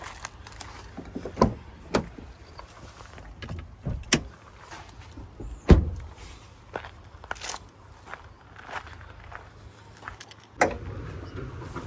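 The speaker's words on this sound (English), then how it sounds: "Let's open the hood." On a 2024 Maruti Suzuki Brezza VXI, scattered clicks and rattles of the latch lead to a sharp thud as the heavy hood is released and lifted.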